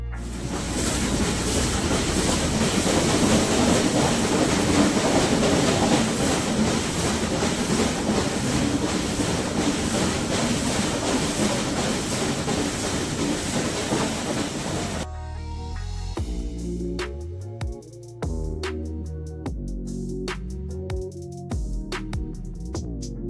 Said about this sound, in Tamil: இப்போ இந்த டனலுக்குள்ளே போகும்போது இந்த நீராவி என்ஜினோட சவுண்டு நீங்கள் கேட்டு பாருங்களேன்